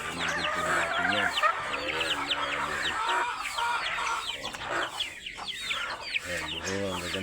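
Rhode Island chickens on a farm cluck and chatter close by, with a rooster crowing among them, while someone talks over the flock at intervals.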